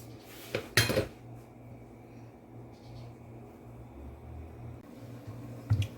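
A cooking pot of Jamaican-style turkey and chicken curry gets its lid set down, giving a couple of sharp metallic clanks near the start and another near the end over a low steady simmering hum.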